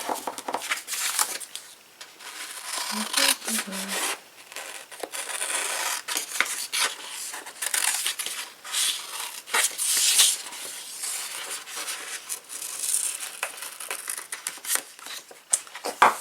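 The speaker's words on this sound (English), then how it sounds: "So I'm going to grab my scissors" Scissors snipping through a paper label for a travelers notebook, a run of close, crisp cuts and rustles with paper handling in between, fairly quiet and without talk.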